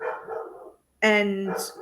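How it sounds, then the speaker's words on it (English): A dog barks angrily, its harsh harmonic barks loud and close in the second half, with a person talking just before. "there's like a dog that's been barking"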